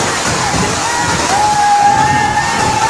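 Floodwater sloshes and rushes steadily across a flooded Karachi street after heavy rain, a loud continuous wash with a faint tonal whine in the background.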